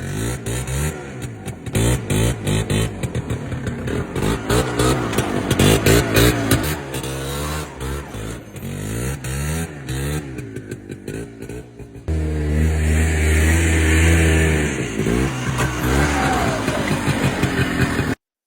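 Two-stroke engine of a 1993 Polaris Big Boss 6x6 climbing in all-wheel drive, a loud buzzing rasp that rises and falls with the throttle and surges again near the end.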